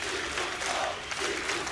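At the ESL One 2015 Katowice Counter-Strike major, a home arena crowd applauds in a brief, dense, steady burst of clapping and cheering during an overtime playoff match on Overpass.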